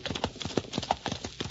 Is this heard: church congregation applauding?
no